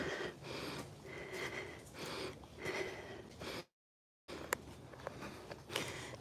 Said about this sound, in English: Y'all forgive my heavy breathing.